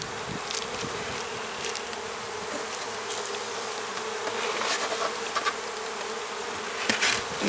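Honey bees swarm around a hive with two very full deep brood boxes, making a dense, steady buzz close by. Individual bees flying past the listener stand out now and then.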